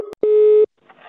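A single short telephone busy tone beeps after a call is hung up, preceded by a brief click and followed by faint muffled sound.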